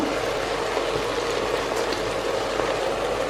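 Masala rice ingredients sizzling in hot oil inside an electric pressure cooker, a steady close, dense frying hiss with crackle running throughout, no talk.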